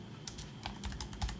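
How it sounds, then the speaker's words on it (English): Quick bursts of computer keyboard typing, a few soft, close clicks in an irregular rhythm in a quiet room. "My typing is all messed up."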